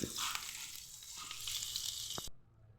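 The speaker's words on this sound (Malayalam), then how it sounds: "അപ്പോൾ നമ്മൾ വേപ്പിലിട്ട് ഇനി നമുക്ക് കറിയിലേക്ക് താളിച്ചൊഴിക്കാം" Curry leaves tempering in hot oil, poured sizzling into a prawn curry made with dried prawns and prawn tamarind, a bright continuous hiss close up that stops abruptly near the end.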